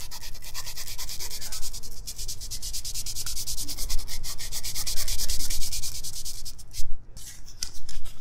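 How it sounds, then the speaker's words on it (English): Sandpaper wrapped around the shaft of a wooden spoon rubs back and forth in a steady, rapid rhythmic scratching, close and fairly loud, with a brief pause near the end. "take the sandpaper, wrap it around, and you can spin back and forth"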